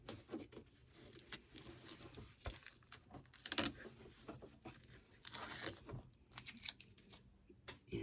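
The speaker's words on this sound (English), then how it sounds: "this will just tear away from the outside, and we'll just pick at the inside here. Tear that away." Embroidery stabilizer is torn away from a fabric daffodil coaster in a string of close, crisp ripping and crackling bursts, some short and some drawn out, with brief picking pauses between them.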